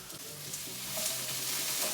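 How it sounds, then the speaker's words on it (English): Steady, loud hissing and crackling of chopped onion frying in a hot wok, continuous and close throughout. "Always a good sign when it sizzles when you add the ingredients."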